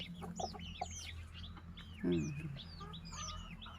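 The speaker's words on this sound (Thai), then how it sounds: "ไก่แจ้นะคะ" Bantam chickens cluck in a low burst amid many bright chirping bird calls, with a steady hum underneath; no one speaks.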